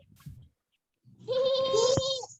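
A child imitates a horse with a high, wavering whinny held for about a second, close and fairly loud, after a brief murmur and a pause.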